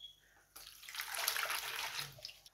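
Tap water runs into a large bowl, 650 milliliters measured for Jamie Oliver's bread dough, starting abruptly and flowing in a steady, close rushing stream for about two seconds.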